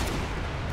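A dense, loud explosion in Dead Rising 4 fills the whole moment, a sustained explosive roar with no clear start or end.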